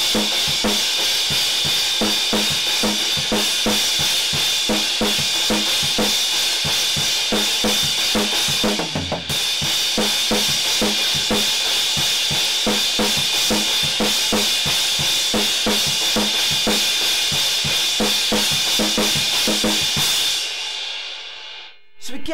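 A drum kit plays the chorus pattern of a song as a loud, driving beat with regular hits, a short break partway through, and a sudden stop at the end.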